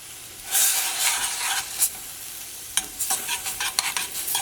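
Jaggery syrup and grated coconut are stirred and scraped in a hot pan as they thicken, with a soft sizzle and irregular clinks of the utensil.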